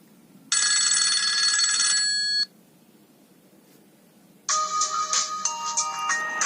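A ringtone plays on a classic Nokia 2600 phone in two bright, beeping melodic bursts separated by a quiet gap, loud and close with no talking.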